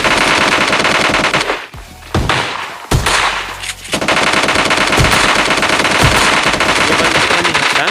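Rapid automatic gunfire from the game PUBG rattles loud and close in dense bursts, breaking off briefly before resuming as a near-continuous barrage with a few heavier single shots.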